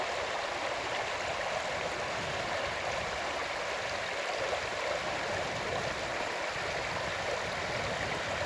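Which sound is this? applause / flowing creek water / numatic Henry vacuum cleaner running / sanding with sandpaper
flowing creek water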